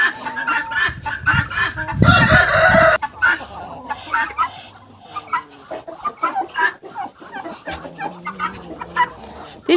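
Domestic turkeys in a farmyard family, a tom courting a smaller hen that he has just mated with, give off a loud burst of gobbling and clucking early on, then a run of scattered clucks and poultry calls close by.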